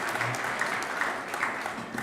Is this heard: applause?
yes